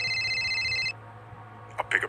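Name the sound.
phone ringing, sound effect in an animated horror story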